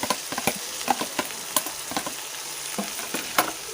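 Boiled carrots, potatoes and capsicum being stirred in a frying pan, with soft sizzling under repeated scraping and clacking strokes of the spoon at a steady, uneven rhythm, close and fairly quiet.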